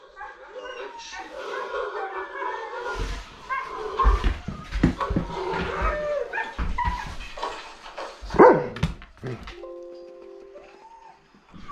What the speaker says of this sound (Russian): Он прям тут рычит.